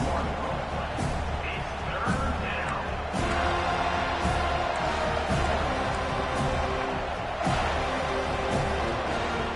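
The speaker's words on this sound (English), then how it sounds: "Decibels rising as the crowd gets behind this defense on third down" Stadium crowd at a college football game, Miami at FSU, cheering and roaring for the defense on third down, a steady dense wall of noise with a voice talking over it.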